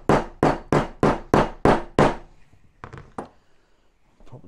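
Hammering with a piece of timber to seat a bush into the gun mount of a 1/6 scale Armortek Hetzer Jagdpanzer 38 tank model: seven loud, evenly spaced wooden thuds, then a few softer taps after a pause.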